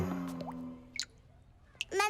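Cartoon drips from a leaking household tap, a few wet squishy plops scattered over two seconds alongside a voice and other speech, with a sharp drop sound near the middle and another near the end.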